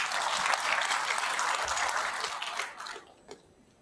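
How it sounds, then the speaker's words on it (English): Dense audience applause greets a sponsor at a town hall forum on budget and economic performance, full and steady for a few seconds before tapering off to scattered final claps. "Let's give them a round of applause, please."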